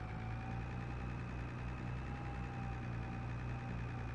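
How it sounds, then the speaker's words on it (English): In Farming Simulator 25, a tractor engine labours up a hill with a steady, droning low rumble and a slight knock. The sound is constant and close, with no talking over it. "Tractor struggling in the hill."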